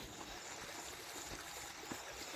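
Water pours from a pipe fed by an electric motor pump into a farm field, a steady broadband rush with no pauses, close and fairly loud throughout.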